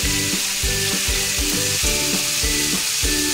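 Raw jackfruit sautéing with salt in a pan for a jackfruit and prawn dish, a steady loud sizzle with rhythmic scraping strokes of stirring throughout, no voices.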